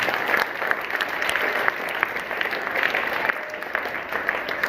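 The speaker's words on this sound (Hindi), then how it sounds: "एक बार मैं दिल खोल के ताली चाहूंगा, दिल खोल के ताली" Steady applause from an audience at a school celebration honouring Fatima Sheikh at an Ambedkar school, dense continuous clapping at moderate level with scattered sharper claps throughout.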